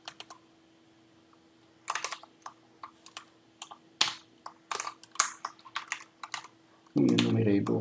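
Keys on a computer keyboard are typed in quick, irregular bursts of crisp clicks, quiet and close, before a louder burst of other noise at the end.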